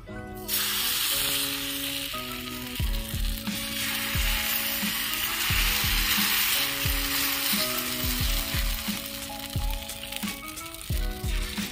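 Greens (saag) fry over a gas stove with a loud, continuous hiss and sizzle; music plays along underneath the whole time.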